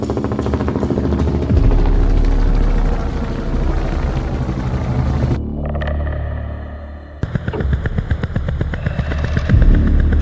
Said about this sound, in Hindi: उसने एक हेलीकॉप्टर तैयार करवाया, बारूद से भरा हुआ।